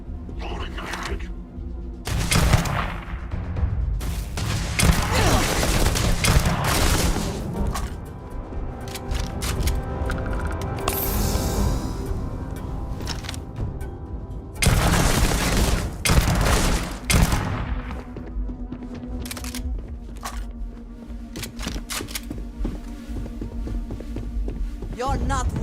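Sustained bursts of gunfire and heavy booms from a Starfield firefight, dense and loud throughout with brief lulls, while a voice speaks over the shooting.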